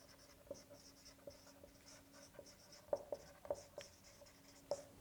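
Chalk or marker writing on a board during a physics lecture on the kinetic theory of gases, heard as scattered taps and short scratchy strokes at a low level, with no talking.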